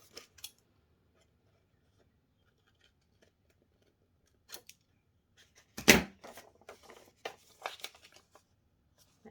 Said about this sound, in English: So I'm just cutting on a slight angle where those folds are.